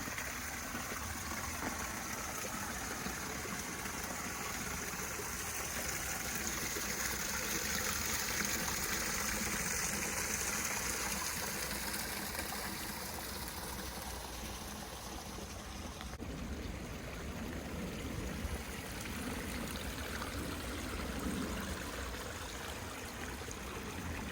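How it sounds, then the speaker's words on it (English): Continuous rushing of a small creek waterfall spilling over rocks at Sweetwater Creek, Georgia, a steady broadband wash with no voices, moderately quiet and unchanging. "There's a little mini creek waterfall."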